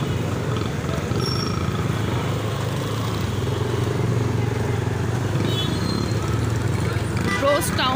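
A motorcycle moving slowly through heavy street traffic near a food street, a constant low engine drone mixed with surrounding road noise and a faint horn late on.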